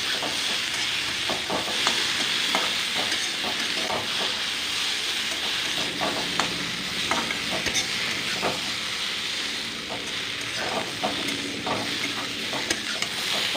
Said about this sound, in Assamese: এইদৰে মই ভাজি ল'লোঁ।